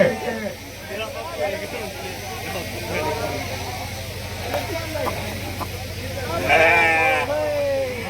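Sheep bleat repeatedly at a temple-style shearing ceremony, wavering cries rising over a crowd of people talking nearby, with a louder close bleat near the end.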